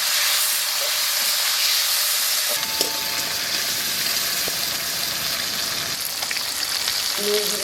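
Oil sizzles in a pan while cooking jackfruit rice with prawn, a steady broadband hiss that grows denser partway through, with a few light clinks of a utensil against the pan.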